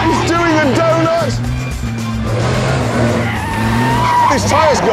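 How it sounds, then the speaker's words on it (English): A car power-slides in a tight donut, its tyres squealing in long wavering whines over a steady engine drone, while excited voices talk and shout throughout. "That is power sliding now. Look at that! He's doing a donut!"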